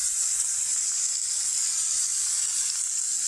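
Onions and chopped tomatoes fry with turmeric powder in a pan for a tomato chutney, giving a steady, dense sizzle that holds evenly throughout with no voices.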